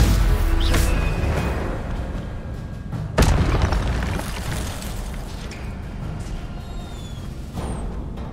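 Spell effects from the Hogwarts Legacy video game, including the Incendio fire spell: several booming bursts and whooshes with one sharp, loud crack in the middle, over a dull rumbling background and small chiming tones.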